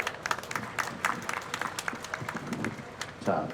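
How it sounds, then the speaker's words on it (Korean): A crowd at a Hyundai and Kia idea festival claps in a burst of scattered applause, uneven and moderately loud, with voices mixed in beneath the clapping. "네, 박수 부탁드리겠습니다."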